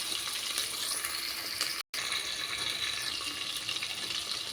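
Onions and green chillies frying in hot oil with curry leaves, a steady, close, hissing sizzle that continues at an even level and breaks off briefly in the middle.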